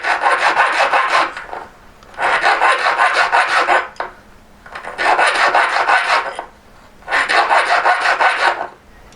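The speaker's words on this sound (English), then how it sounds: "So I'm just putting more of an angle on, so sharpening that outside edge a bit." Rasping strokes of a hand file shaping the outside edge of a metal court-shape ring band, four long even passes about two seconds each with brief pauses between, close and fairly loud, no talking.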